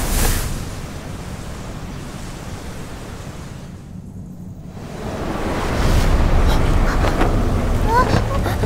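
Stormy wind and crashing waves roar in an animated fantasy battle scene, a loud broadband rush that briefly drops away then surges back even stronger.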